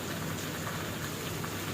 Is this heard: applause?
no